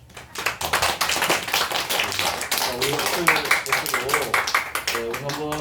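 A church congregation claps, a close, rapid run of handclaps that grows busier while people talk and sing over it.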